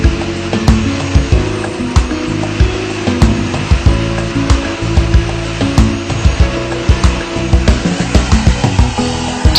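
A KV80 three-motor wet and dry commercial vacuum cleaner rated at 3000 watts runs loud and close, a continuous whooshing roar broken by repeated knocks and clatters of the nozzle as it works across a surface.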